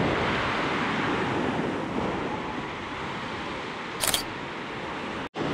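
Strong gusty sea wind on the coast at Nha Trang at sunset, a loud continuous roar and buffeting on the microphone with surf mixed in, broken by a brief crackle and a sudden sharp dropout near the end.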